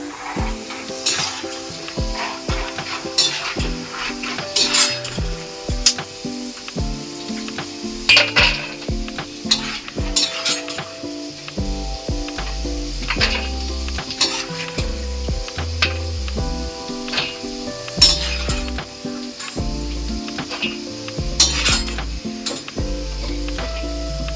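Chivda ingredients fry in hot oil with a steady sizzle and bubbling, broken by frequent metal clinks and scrapes of a utensil stirring in the pan, close and continuous with no talk.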